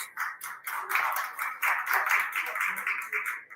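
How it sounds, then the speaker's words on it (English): Scattered clapping from a nearby gathering at the COP28 climate conference comes in short uneven bursts in the background. "I can hear some clapping in the background."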